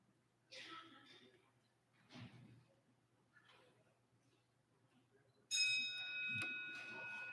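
In a state House legislative chamber, a voting bell rings loudly with a sustained bright metallic tone after soft murmuring and shuffling in the room.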